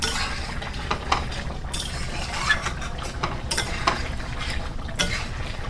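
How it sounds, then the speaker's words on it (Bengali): Mutton and potato curry slow-frying in a pot, with a steady sizzle under repeated clinks and scrapes of a spoon stirring, close and continuous, with no voices. "এটা কষানো হচ্ছে"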